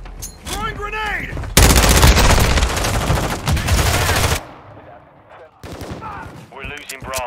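Heavy gunfire in Call of Duty Modern Warfare II on the Showdown and Kunstenar District maps, a loud sustained burst of automatic shots lasting several seconds, framed by shouted radio callouts before and after.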